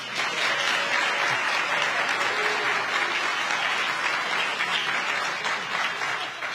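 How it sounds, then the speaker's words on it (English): Steady applause from an audience at a university town hall held in a church, dense and sustained clapping at moderate loudness throughout, with no pause. "Now y'all can clap."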